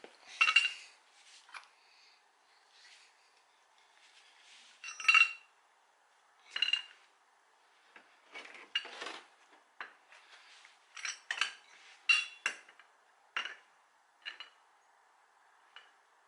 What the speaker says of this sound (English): I'm just going to grab an axle stand.